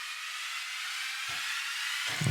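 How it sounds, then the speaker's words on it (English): White noise sound design for an electronic remix, treated with a flanger: steady, loud broadband hiss whose low end sweeps in and out with short whooshing dips, with no voice. "And in this one, it's got a flanger"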